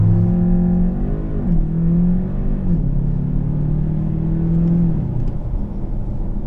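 A VW Arteon 280 R-Line launches hard with traction control off, the engine roaring loudly and climbing in pitch through gear shifts, a sustained close rumble with no talking.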